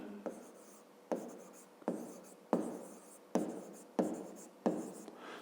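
Pen strokes on paper during a grade 5 maths exercise, about seven crisp scratching bursts in a steady rhythm, close-up and quiet with no talking over them.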